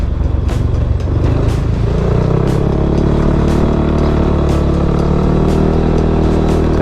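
A motorcycle being ridden, its engine droning loudly and steadily close to the rider, with wind rush and a faint rhythmic ticking running through.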